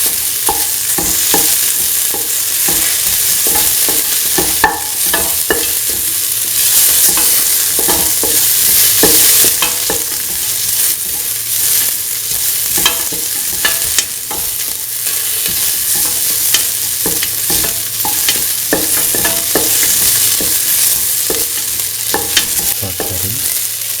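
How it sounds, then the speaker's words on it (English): Onions sautéing in a pan with steady, loud frying hiss and frequent rapid spatula strokes clattering against the metal, close-up and continuous throughout. "onions lose the pinkish color. Keep on sauteing."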